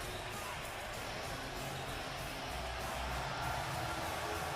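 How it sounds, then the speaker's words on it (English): Video game crowd noise from WWE 2K18 as AJ Styles, NXT champion, enters the NXT ring before facing Cesaro at NXT TakeOver: a steady, dense roar of arena cheering that holds throughout, with no clear talk on top. "as the crowd comes alive for the NXT champion AJ Styles as he steps foot into the NXT ring"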